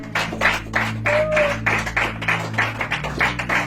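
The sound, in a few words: congregation applauding in church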